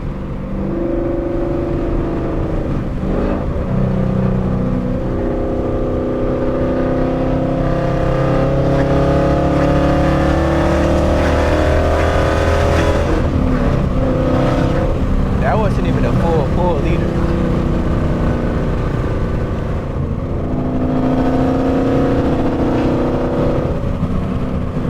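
Mustang GT with loud aftermarket headers, its engine droning and revving hard through downshifts, close and loud throughout with a person talking over it.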